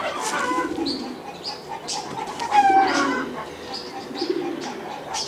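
Pigeons in a loft coo and flutter in a close, cluttered mix of low murmurs and brief chirps, with some movement and faint background noise throughout.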